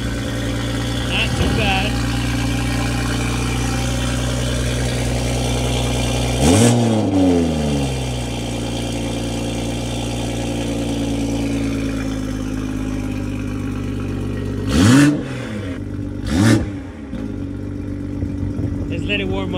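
A Toyota A90 Supra with a B58TU engine and an Armytrix catless downpipe idles with a deep, steady drone, then gives three quick revs that rise and fall back, with brief talk over it.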